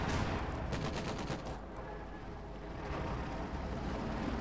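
Rattling gunfire from the World War II strategy game Company of Heroes 2, a quick run of rapid shots early on under a dense, continuous wash of battle noise at moderate volume.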